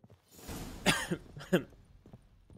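A person coughs a few times nearby, two sharp, harsh bursts with a softer one trailing off, against a quiet background.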